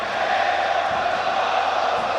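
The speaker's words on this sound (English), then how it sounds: "but now there's, I think, a chant." A large stadium crowd at the Dota 2 Lima Major esports event keeps up a steady, distant chant, a dense wash of massed voices holding a sustained tone throughout.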